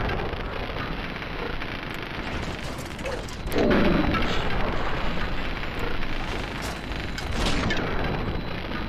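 A pulse grenade goes off in a video game, a loud, deep, rumbling boom that swells midway and fills the space, then a sustained crackling roar that holds for several seconds, with no talk.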